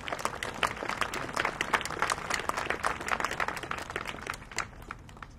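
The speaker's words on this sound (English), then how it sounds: "I think we owe you a round of applause" An audience at a veterans memorial dedication ceremony gives a round of applause, a dense, steady patter of many hands clapping at moderate distance that tapers off toward the end.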